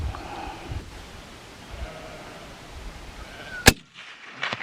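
A single sharp, loud rifle gunshot cracks out close by during a hunt in the New Zealand outdoors, breaking a low outdoor ambience and leaving a brief decaying tail.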